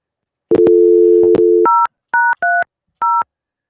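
An old-school telephone gives a loud, close steady dial tone, then four short two-tone keypad beeps pressed one after another with brief gaps between them.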